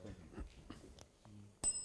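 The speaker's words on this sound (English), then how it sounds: "that bell signifies the end of the final challenge and indeed the end of the match for this evening" Bell rung to close the final challenge of an evening quiz match, a single bright metallic ding near the end after a few faint clicks and rustles, fairly clear against a quiet room.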